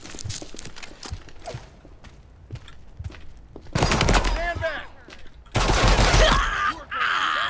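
Gunfire bursts in a furry-themed video game, Project Silverfish, with two loud, dense volleys standing out after a quieter stretch of clicking game sounds.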